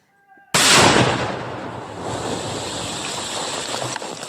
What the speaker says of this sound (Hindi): जोरदार धमाका आप सुन सकते हैं।